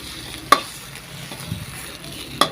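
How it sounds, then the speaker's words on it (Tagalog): Ingredients being sautéed in oil in a pan before mussels go in, a faint background sizzle punctuated by two sharp metallic clacks of a utensil against the pan. "magigisa po tayo ng sangkap sa ating pagluluto sa tahong"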